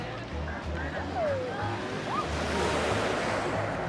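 Sea waves washing onto a beach in Nice, France, a steady near surf wash with gentle sloshing that runs the whole time under light wind.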